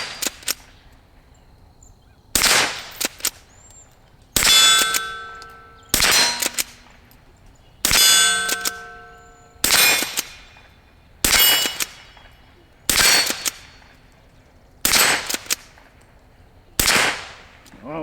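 Rossi gallery gun shots, each followed by a ringing clang off metal targets, about nine evenly spaced reports with long metallic decay, loud and sharp, in a quiet outdoor setting.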